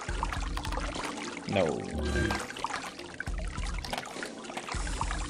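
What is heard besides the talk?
water flowing in SiN, a video game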